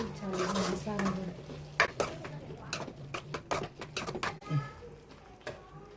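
A spoon stirs and scrapes through masala of tomatoes and onions frying in a pan, making intermittent clinks and scuffs at close range. Faint background voices are heard.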